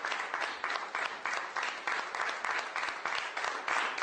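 Room full of people applauding a dictator lifting an empty golden Olympic barbell overhead, sustained crowd clapping that surges in regular waves, moderately loud and continuous.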